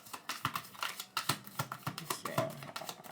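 Quick papery riffling and soft snapping clicks in uneven bursts, like cards being shuffled close by, repeated several times.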